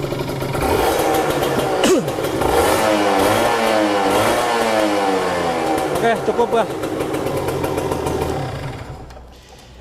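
An upgraded Kawasaki Ninja RR motorcycle engine revs and settles back toward idle, with people talking over the mechanical drone, fairly close and moderately loud.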